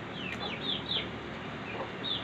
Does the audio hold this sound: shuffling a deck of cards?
no